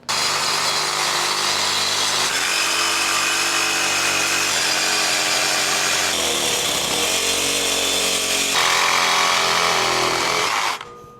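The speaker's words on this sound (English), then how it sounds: "So I fully cut this bearing housing apart." Power tool cutting through a Volkswagen IRS trailing arm bearing housing, a loud continuous whining saw drone with shifting pitch held steady for about eleven seconds before cutting off.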